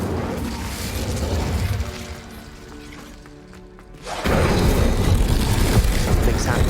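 Incendio fire spell cast in Hogwarts Legacy, erupting as a loud, sustained fiery blast that cuts in sharply after a quieter, low-rumbling stretch and holds steady to the end.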